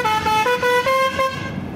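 A vehicle horn honks in several short, loud, tonal blasts in quick succession, with brief gaps between them and a fading tail.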